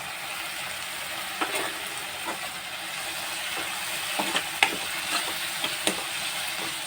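Ginger-garlic paste frying in a pan gives off a steady hiss and sizzle, with a string of soft scraping clicks as it is stirred, at moderate loudness and with no voices.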